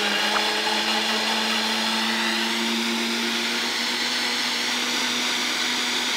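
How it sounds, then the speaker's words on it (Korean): An electric blender purees pears for homemade ginger syrup, running at a constant high-pitched whir with a steady motor hum throughout, close and loud with no pauses. "자, 그럼 배를 먼저 갈아보도록 하겠습니다."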